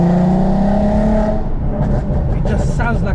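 A 2005 Volkswagen Golf R32 MK5 with its 3.2 engine revs hard, a loud close throaty drone that holds, then dips and climbs again, with a voice speaking over it.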